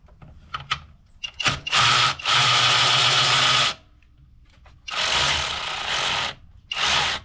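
A ratchet tool working a bracket bolt on a 2022 Honda Civic Si during an inlet install: several bursts of rapid clicking whir, each lasting one to two seconds, separated by short pauses and small handling knocks.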